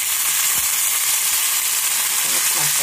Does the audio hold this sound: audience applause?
no